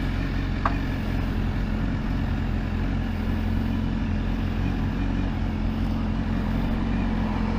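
A 2016 BMW S1000RR sport motorcycle's engine runs at a low, steady idle, a constant rumble with no voices over it.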